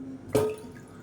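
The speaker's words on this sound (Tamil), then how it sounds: "இது முங்குற அளவுக்கு தண்ணி சேர்த்துக்கலாம்." Water is poured into a cooking pot while making rasam, a single short splash and gurgle lasting a fraction of a second, close by in a quiet kitchen.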